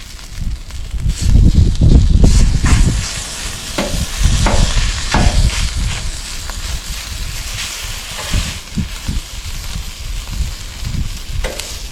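Food frying skin side down in a light touch of olive oil in a pan at a canyon campsite, a loud close sizzle with scraping and stirring bursts, no voices.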